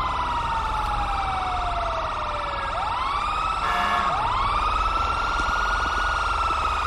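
A wailing video game fire engine siren sweeps up and down continuously, loud and close, with a second siren tone joining partway through.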